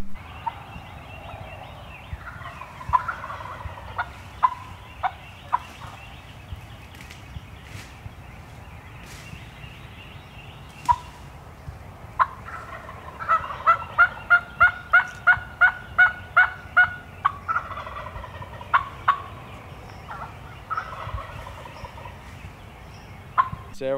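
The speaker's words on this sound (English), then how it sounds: "Several birds gobbling, probably 7 or 8 turkeys gobbling." Seven or eight wild turkey gobblers in Virginia gobble repeatedly in rapid rattling bursts, some near and some farther off, over a quiet outdoor background.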